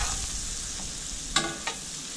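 Rosemary and garlic sizzle loudly in a hot pan alongside steaks, a dense close frying hiss with two sharp crackling pops partway through.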